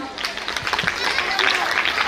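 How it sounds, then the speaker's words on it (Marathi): An audience at a school annual gathering applauds with dense, continuous clapping that stays fairly even and swells slightly toward the end. "सर्वांनी त्यांच्याबद्दल टाळ्या वाजवा"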